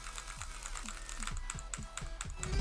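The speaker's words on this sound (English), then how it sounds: "the most effective technique is to roll your entire hand across the keyboard" Rapid clatter of fingers rolling across computer keyboard keys while playing the rhythm game ADOFAI, a close, quick run of light clicks and taps repeating evenly, with no voice present.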